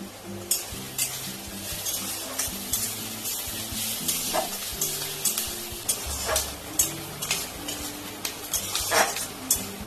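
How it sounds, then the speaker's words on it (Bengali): Chopped onions and dried chillies sizzle steadily in hot oil for an egg tadka, with a spatula scraping and clinking against the pan at irregular intervals. "তেল গরম হয়ে গেছে, দুটো পেঁয়াজ আমি কুচো করে রেখেছিলাম দিয়ে দিলাম।"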